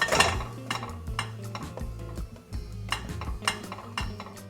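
Egg-filled lavash being flipped in a frying pan, with clattering scrapes and knocks of a utensil against the pan over a low sizzle, irregular taps spread across the few seconds.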